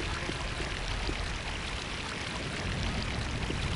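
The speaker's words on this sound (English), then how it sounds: "This opens a pool that fills this with water." Water pours steadily into a filling pool in the video game Unreal Gold, a continuous broadband rush at even loudness throughout, alone with no voices.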